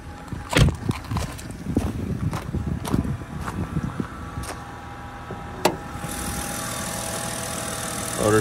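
A 2007 BMW X3 3.0si AWD idles steadily at close range, a smooth continuous engine hum broken by a few sharp clicks and knocks early on.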